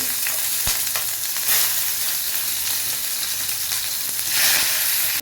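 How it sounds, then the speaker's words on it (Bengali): Shrimp frying in a pan for a shrimp posto curry, a loud, dense, crackling sizzle held steady throughout, close by, with a brief clunk early on and no voices. "আগে মাছটা আমরা একটু ভেজে নেব"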